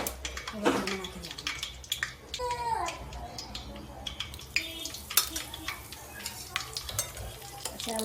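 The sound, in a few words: turmeric, asafoetida and red chili added to sizzling oil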